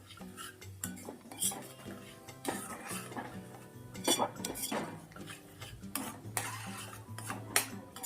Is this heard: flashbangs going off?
no